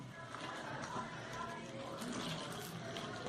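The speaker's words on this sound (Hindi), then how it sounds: "पानी डाल के बैटर तैयार करेंगे।" Water poured into a batter of red chilli and kasuri methi, a steady soft watery wash with faint mixing noise throughout, fairly quiet and continuous.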